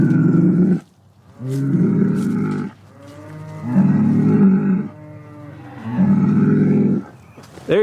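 Geronimo, a Highland bull, lets out four long, loud bellows in a steady rhythm with short pauses between them, close by and with no talk over them.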